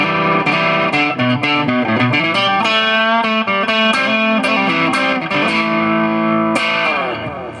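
Distorted electric guitar through a compression effect, strumming and picking chords with a compressed, even level, the guitar slightly out of tune, played steadily without any voices.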